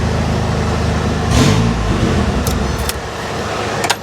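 A 1982 Ford F150 XL pickup truck, stored for years and still on its original fuel, idles steadily with a close, low rumble, joined by a few light metallic clicks and jingles.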